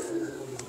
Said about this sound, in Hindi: ये उन्हीं के कबूतर हैं